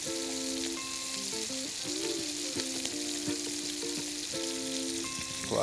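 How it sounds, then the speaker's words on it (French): Chicken breast with tarragon cheese sears in a hot pan, a steady broadband sizzle with crackling spits throughout and faint tonal hum beneath, with no voices. "Et maintenant qu'il est bien saisi, on va le retourner."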